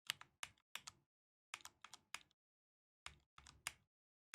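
Mechanical keys clatter on a Mountain Everest MAX keyboard with Cherry MX switches, a few crisp bursts of quick strokes separated by short pauses, close and clear with no talk.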